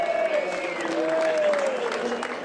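Applause rises for the podium finishers at the FIA European Truck Racing Championship round at Zolder, a steady crowd clapping that runs beneath someone talking.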